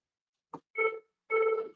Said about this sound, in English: As the phone starts ringing in the background.